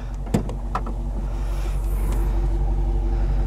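Low, steady rumble of a 2018 Dodge Challenger T/A with a 5.7 liter engine idling nearby, with a few sharp clicks and knocks near the start and no talk.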